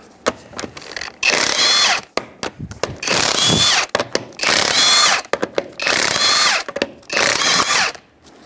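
A power tool with a 19mm socket zips a lug nut off the wheel of a 2005 Honda Element, loud whirring bursts repeated several times with short pauses between them, close up and with no talking.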